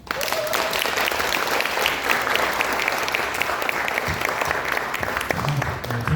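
An audience at the opening ceremony of a social cooperative gives warm applause, a continuous, even burst of clapping for about six seconds, with a brief voice audible early on.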